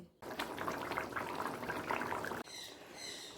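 Rui fish curry with winter vegetables bubbles in a pot on a gas stove, a steady close boiling gurgle that cuts off abruptly near the end, followed by a quieter hiss.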